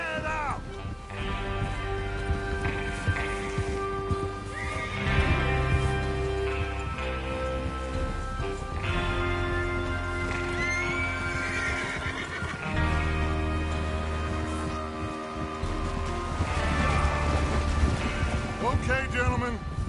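Horses neigh and hooves clatter in a Red Dead Redemption 2 scene as riders prepare for a train robbery. A loud, dense game mix runs throughout, with rain-like wash and tonal layers.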